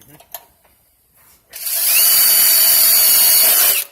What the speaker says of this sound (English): If you make a mistake, beauty of rivets too is that you can drill it out too